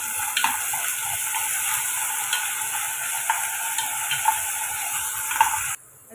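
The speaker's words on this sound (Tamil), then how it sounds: "கொஞ்சமாக பட்டாணிக்கு தேவையான உப்பு சேர்த்து வதக்கி விட்டுக்குங்க." Green peas sauté with salt in a pan, giving a steady close sizzle and frying hiss with light stirring scrapes throughout, cutting off abruptly near the end.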